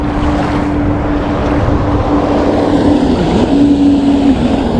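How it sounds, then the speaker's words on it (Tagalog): A jet ski's engine drones steadily close by over choppy water, a sustained motor hum with splashing and wind noise throughout the short stretch. "jet ski."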